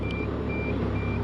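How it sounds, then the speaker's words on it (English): A warning beep sounds inside the cab of a 1994 Isuzu Elf camper with a 4JG2 diesel, thin repeating tones over a steady engine drone. "It has a really nice beeping."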